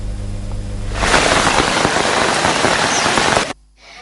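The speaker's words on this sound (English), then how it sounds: "many areas were inundated as a result of the incessant rains today" Heavy rain pours down in a sudden loud, dense hiss that swells in and holds steady for a few seconds, then cuts off abruptly into quiet.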